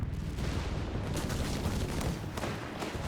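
Dense rattling gunfire and battle noise from Company of Heroes 3, with machine guns firing under heavy combat, a steady loud barrage with sharper bursts rising through it.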